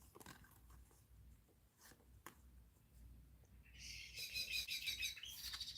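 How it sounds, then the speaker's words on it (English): A small bird chirps in quick bright bursts, loudest in the second half, with a faint room hum beneath and no talking. "How noisy is that bird?"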